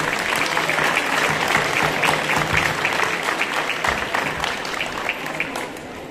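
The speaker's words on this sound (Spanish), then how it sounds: "Vamos a darles otro fuerte aplauso" Steady applause from a crowd at a beauty queen pageant, dense clapping that holds at an even level throughout with no voices rising above it.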